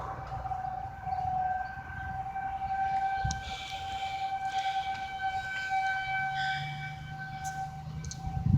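An outdoor tornado warning siren sounds during its weekly test with a steady, wailing mechanical tone and layered harmonics. It drones on continuously, heard from some distance over faint background rumble.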